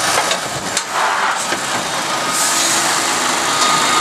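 A truck engine pulling against a refrigerated trailer during coupling, a loud steady mid-range drone with hissy broadband noise rising in the second half, close and continuous, with no talk.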